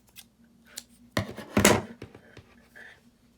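Scissors snip through crochet yarn nearby: a couple of sharp, crisp blade closures in quick succession, with faint handling noise before and after.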